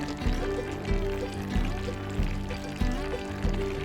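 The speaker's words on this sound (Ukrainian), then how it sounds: "заливаємо кипятком" Boiling water pours over potatoes and chicken in a cooking pot, a steady nearby splashing stream with a faint recurring pulse throughout.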